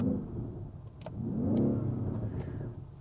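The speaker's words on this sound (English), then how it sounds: "right now we can just to listen a little bit to this engine." A 650 hp BMW XM SUV engine idles and revs, its low rumble rising and falling in a close, moderately loud swell.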